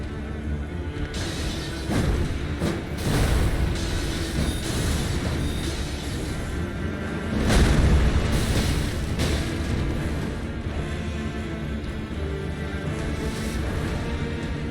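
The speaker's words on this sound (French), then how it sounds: "Explosion." Heavy booming explosions from the video game Elden Ring go off in a few separate bursts over a rumbling backdrop, the strongest blast arriving about halfway through.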